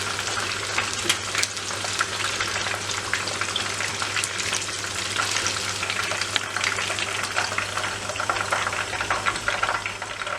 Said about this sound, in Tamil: இதை நான் இன்னொருக்கா ஒரு 5 மினிட்ஸ் பொரிக்க போகிறேன்